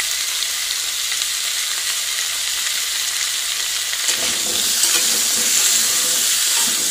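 Turmeric and green chilli frying in a pan for a fish curry with elephant foot yam, heard as a steady close hiss that grows louder and crackles more midway as the sizzle strengthens, with no talking.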